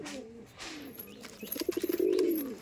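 Domestic pigeons of an old Bengali Giribaz breed coo in a rapid pulsing run of notes that swells into a sustained, louder coo. The birds are close, with no talk over them.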